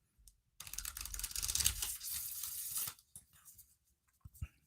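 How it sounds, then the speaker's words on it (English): Lenormand tarot cards being shuffled by hand, a close, quiet riffling rustle lasting about two seconds, followed by a few soft taps and handling sounds. "So you guys see me shuffle"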